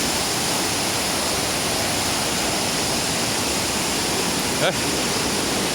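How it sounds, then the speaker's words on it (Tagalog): Steady broadband roar of Mohter Falls, a waterfall pouring continuously, dense and unbroken throughout with no clear voices standing out above the rushing water. "Nakikita ko na yung tunay na falls, ah"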